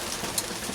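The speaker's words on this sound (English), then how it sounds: "that's why I'm out here in the rain with it" Steady outdoor rain falling, a dense, even hiss of drops close by with a few faint bird calls in the background and no talk.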